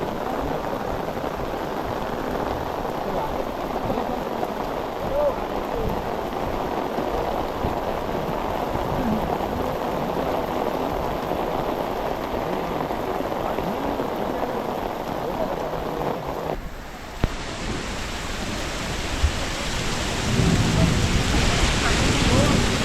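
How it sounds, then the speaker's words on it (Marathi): Heavy monsoon rain pours in a dense, continuous roar on the Harishchandragad trek, with low rumbling thunder underneath, near and steady throughout. "वरती आल्यावर पाऊस आलाय"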